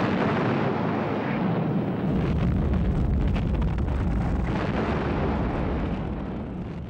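Heavy naval bombardment explosions at Iwo Jima in 1945 merge into a continuous, booming rumble of blasts, dense and loud throughout with no pauses between them.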